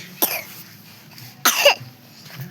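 Two short, sharp coughs from a nearby person, spaced about a second apart, with quiet in between.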